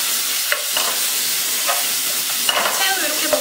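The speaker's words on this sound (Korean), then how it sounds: "새우 이렇게 볶았어요." Shrimp stir-fried with meat in a pan, a steady close sizzle with repeated scraping and stirring strokes of a utensil against the pan, no talking.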